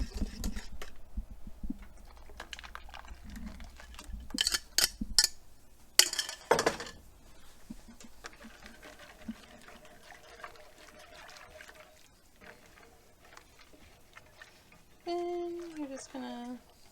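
Eggnog mixture with egg yolks cooking in a pot while being stirred: soft, close clinks and scrapes of a utensil against the pot, a few sharper clinks early on, with quiet speech over parts of it.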